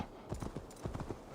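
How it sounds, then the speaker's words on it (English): Horse walking in Assassin's Creed Valhalla, a quick run of soft hollow hoof clops in a steady gait, faint and close. "This is clearly a horse now."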